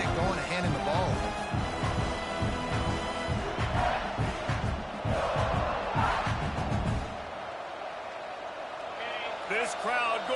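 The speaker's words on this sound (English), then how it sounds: "This crowd going to try to make life miserable for these guys" Crowd noise rumbles through a football stadium during a South Carolina vs Houston game, a broad roar with thumping and shouting that eases after a few seconds, under continuous commentary.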